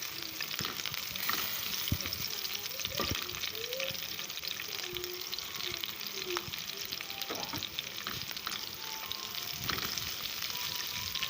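Green chillies sizzle in hot oil for a tadka tempering, a steady bright frying hiss with occasional pops and stirring scrapes, close and continuous.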